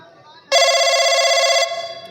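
A telephone ringing after a call is dialed, one loud electronic ring tone held steady for about a second after a faint line tone, then a fading tail, close and clear.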